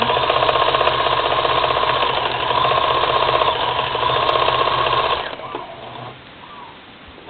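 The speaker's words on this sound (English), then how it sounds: "So just simply sewing about 1/2 inch all the way down." A sewing machine runs a steady straight stitch down the edge of a folding fabric pouch, a loud, continuous whirring drone that slows and winds down near the end, with no talk.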